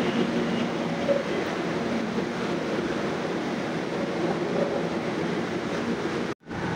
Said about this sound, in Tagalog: nandito ako sa MRT North Station